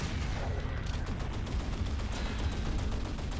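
Rapid bursts of gunfire in the indie shooter Assault Android Cactus crackle continuously over a dense, noisy backdrop, with no talking.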